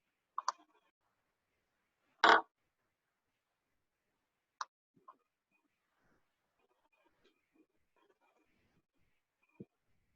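Computer keyboard keys clicked one by one while searching for a symbol: a few sparse, dry clicks spread over several seconds, with long quiet gaps between them in a quiet room.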